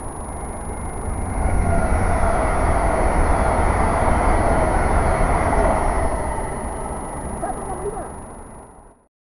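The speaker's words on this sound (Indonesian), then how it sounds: "Kereta cepat tembus 300 km per jam." A high-speed train at about 300 km/h roars past close by, building quickly into a loud rushing whoosh that holds for several seconds, then fades away.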